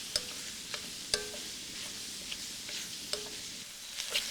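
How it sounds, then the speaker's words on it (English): Shiitake mushrooms stir-frying in oil with no seasoning, a soft steady sizzle broken by occasional sharp scrapes and taps of a utensil against the pan. "And we're just gonna stir fry them."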